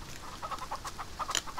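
Chickens on a farm in the video game Farm Together give a quick series of short, soft clucks in an irregular rhythm, heard alone without speech.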